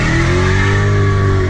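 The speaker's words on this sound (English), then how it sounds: "my good friend Kai is gonna give me some G-force in the acceleration department" Supercharged Dodge Hellcat with roughly 740 horsepower accelerating hard, a loud, steady, close engine roar with rising harmonic pitch throughout, no speech.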